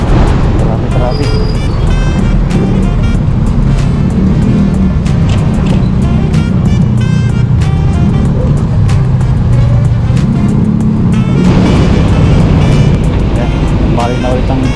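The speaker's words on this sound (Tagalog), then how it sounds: "Balik na ulit ang traffic." Dense road traffic on a night ride in Marilao, a constant loud roar of nearby car and motorbike engines with vehicles passing close, and a voice talking over it.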